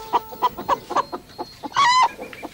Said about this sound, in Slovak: Sliepky, sliepky.